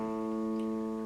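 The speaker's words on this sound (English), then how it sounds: "you're going to pick the 5th string open." Two guitar notes ring together in a sustained tone, a fretted note and the open fifth string, steady and clear with no talking.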